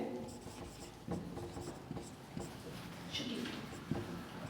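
Pen writing by hand during a Class 10 maths lesson on prime factorisation: soft, scratchy strokes with periodic taps as numbers are jotted, close and faint, alongside a teacher's quiet speech.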